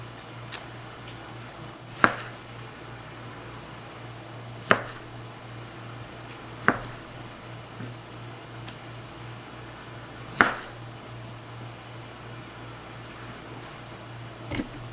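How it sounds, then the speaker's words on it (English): Tomatoes roughly chopped on a cutting board for salsa, four or five sharp, sparse knife knocks spaced a few seconds apart over a steady low hum, fairly quiet. "I'm using that to core my tomatoes before I roughly chop them"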